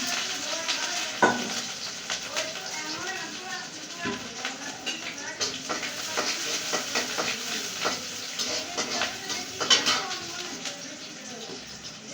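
Chickpeas fry in a pan, giving a steady sizzle with scraping stir strokes at close range and a few sharper clatters, while a voice talks over the cooking.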